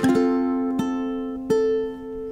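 A ukulele plays a slow fingerstyle melody from the folk tune Aura Lee, three clear plucked notes that ring out and decay alone in a quiet room.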